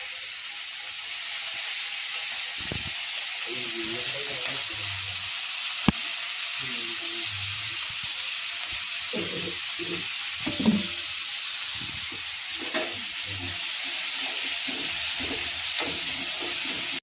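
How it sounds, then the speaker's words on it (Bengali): Leftover rice and vegetables frying in a pan give off a continuous soft sizzle and hiss, broken by brief clicks and scrapes of stirring at close range. "সবজি দিয়ে এই যে ভাতটা দিয়ে ভাজবো"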